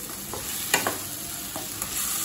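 Fried yam is stirred into a tomato masala with separated oil in a pan, making a close, steady sizzle with a few scraping stir strokes, without any voices.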